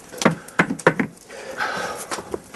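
Hammer blows knocking an iron tyre down onto a wooden cartwheel at a Victorian farm: three sharp wooden-metallic knocks in quick succession, then a quieter hiss and a final faint knock, close by.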